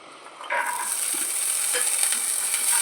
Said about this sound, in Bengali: এখানে আমি ধনে আর কড়াইশুটি একটু হালকা তেলে নেড়ে